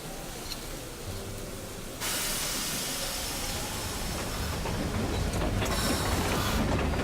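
A train in the Metro Exodus video game comes to a stop with a sudden loud burst of hissing steam. Steady broadband rushing noise follows and holds over a low mechanical rumble.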